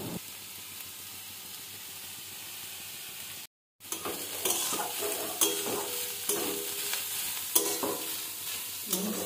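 Masala oats frying in a pan with turmeric and Kashmiri chili powder, a steady close sizzle broken by a brief silent gap, then louder hissing with intermittent stirring scrapes.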